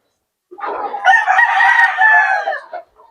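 A Lemon Sweater bloodline gamecock rooster in a backyard setting gives a single loud, close crow that lasts more than two seconds and ends cleanly, with no other sound around it.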